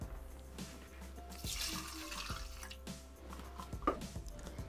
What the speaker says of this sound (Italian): A questo punto aggiungiamo l'acqua.